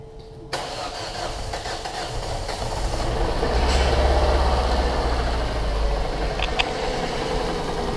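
A Ford Transit Connect van's newly fitted engine cranks, catches and runs with a rough, uneven misfire, rumbling louder as it settles into a low, lumpy idle, heard from close by.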